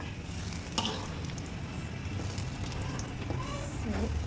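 Cashews and raisins sizzle steadily in hot ghee, with a few scraping stirs over the constant crackle.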